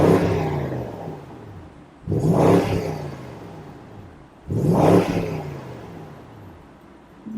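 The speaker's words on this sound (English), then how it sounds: "Let's go hear some exhaust note, engine revs, etc." A 2022 BMW 750i G12 sedan in sport mode revs its engine three times, each a rising roar that falls back to a low rumbling idle, close by with no talk.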